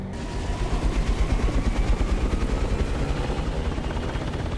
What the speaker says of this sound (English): Those rotors are spinning but not spinning.